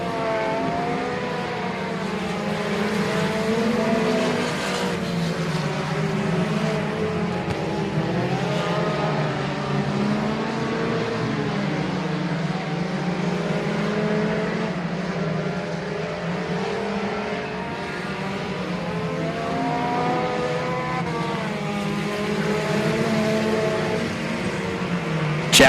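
Race cars roar around the oval at Boothill Speedway, a dense, continuous drone of several engines with rising and falling pitch as the pack circles, steady and loud throughout.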